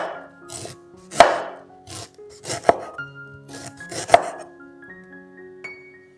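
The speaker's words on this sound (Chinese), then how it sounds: "南姜去皮，切片，放到小碗里备用。" A knife slicing peeled galangal on a cutting board, a series of crisp, uneven thuds and cuts close by, about a dozen strokes with a few louder chops, and no talking.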